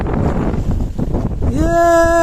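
Strong wind buffets a fishing boat out at sea during daytime squid fishing, a loud continuous roar of gusts over the microphone, followed by a steady droning engine tone that rises and holds near the end.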